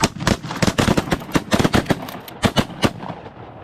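Shotgun blasts fired at geese during a goose hunt on a golf course, a rapid barrage of loud, close booming shots from several guns overlapping across a few seconds.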